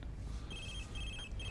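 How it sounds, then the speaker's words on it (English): A mobile phone rings with repeated high electronic trills in two bursts, faint and steady against a low background hum, with no talking. "That's my phone. I forgot to turn it off."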